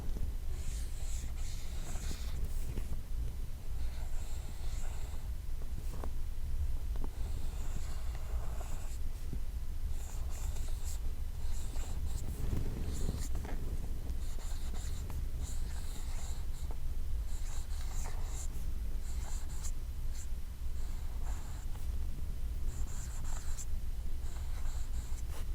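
Marker writing Russian letters on a surface, a steady series of soft scratchy strokes with short pauses between letters, close and quiet, alone.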